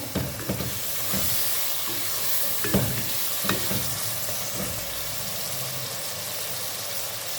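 Spices, turmeric and beef sizzle steadily in a hot pan while being stirred, a constant bright frying hiss with occasional scraping clinks of a spoon against the pan, close and alone with no talk.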